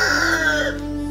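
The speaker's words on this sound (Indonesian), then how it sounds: "sorry ada suara ayam" A nearby chicken gives a short, loud clucking call over a steady low background hum.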